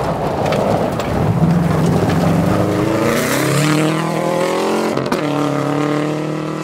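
A Subaru super production rally car roars past on the final stage of a rally, its engine note climbing and then dropping as it passes close by, with a loud rushing wash of noise throughout.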